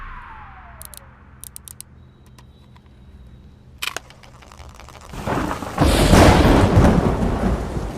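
A thunderstorm with rain opens with a few faint clicks and a quiet hum, then a loud roll of thunder and a heavy wash of rain swell up in the last few seconds.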